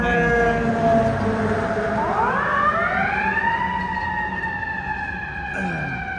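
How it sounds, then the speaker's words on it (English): An ambulance siren rises and wails from moderate distance over New York street traffic at Coney Island on Christmas Day, its pitch sweeping up then holding in a long steady tone. "So that's why you hear the ambulance."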